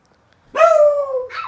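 A dog gives one close, loud, drawn-out bark or yelp that trails into a whine, with a second sound starting just after, in a room where Christmas gifts are being unboxed.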